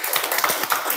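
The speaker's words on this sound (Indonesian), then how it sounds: "Tepuk tangan untuk kelas ini" A schoolroom of junior high students clapping their hands together in a brief, brisk burst of quick overlapping claps, close and fairly bright.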